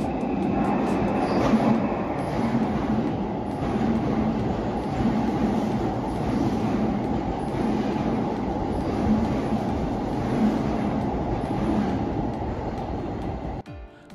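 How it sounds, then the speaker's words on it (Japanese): Keikyu rapid limited express train bound for Shinagawa passing at speed, a loud steady roar of wheels with rhythmic clickety-clack over rail joints and faint high squeals, cutting off abruptly at the end. "通過列車は快特の品川方面行き列車です。"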